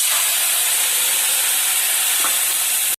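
Ginger-garlic paste sizzling in hot oil in a pan while a fish curry is cooked, a steady dense frying hiss that holds evenly throughout, close and fairly loud, with no talking.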